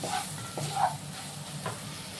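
A pan of banana stem curry sizzles softly while a spoon stirs it, giving a couple of brief scraping clanks over a faint steady hiss, close and with no talking.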